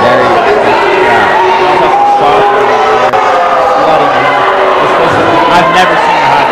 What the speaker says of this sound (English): bustling crowd here.